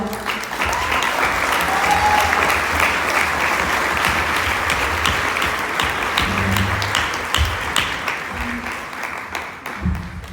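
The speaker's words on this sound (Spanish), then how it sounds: "Démosle un aplauso de verdad." Warm applause from a large audience at a political event in Puebla, a loud sustained wash of clapping with a few scattered voices and cheers, gradually tapering near the end.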